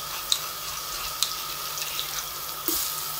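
Tap water runs steadily in a sink while mutton is washed for biryani, a continuous broadband rush with a few small clinks and splashes, fairly close and with no talk.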